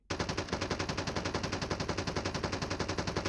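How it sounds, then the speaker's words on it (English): Rapid automatic gunfire from CoD Mobile, shots punched through a wall in a battle royale match, a fast even burst of loud cracks running without pause for about three seconds, with no talk. "Get some wall bang shots here."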